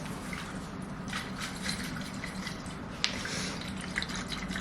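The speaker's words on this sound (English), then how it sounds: "You hear there's water in here." Water sloshes and splashes inside a Brewmate tumbler being shaken, a series of soft liquid swishes with one sharper knock midway.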